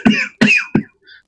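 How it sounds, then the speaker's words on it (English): Three sharp coughs from a person in a fantasy game soundscape, evenly spaced and close, followed by a faint short throat sound. "you will hear a kind of coughing in the distance"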